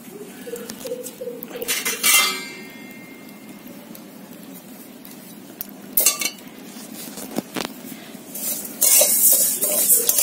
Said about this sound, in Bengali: একটু ডালটাকে নেড়ে নি